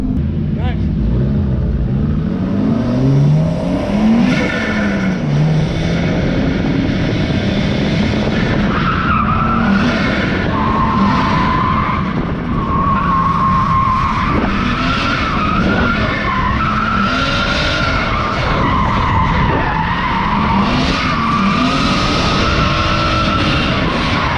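A car skidding with the handbrake at Queensland Raceway, loud tyre and engine noise running continuously throughout, with people talking over it.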